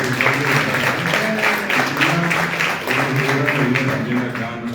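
Audience applause at an anniversary gathering of a writers' house, sustained clapping from a crowd, loud and near, with voices mixed in.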